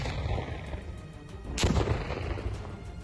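Russian soldiers in Ukraine detonate a landmine with a long wire: a single sharp blast bursts out midway, louder than the steady background rumble before and after.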